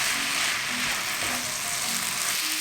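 Chopped mung bean glass noodles are stirred in a pan with oil and soy sauce, sizzling steadily up close with a few soft scraping strokes of the utensil and no voices.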